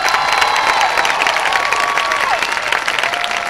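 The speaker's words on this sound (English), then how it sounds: "Would all the summa cum laude graduates please stand so we can give you a round of applause" A graduation crowd honouring summa cum laude graduates breaks into loud, sustained applause, dense clapping mixed with scattered cheers and whoops from the audience.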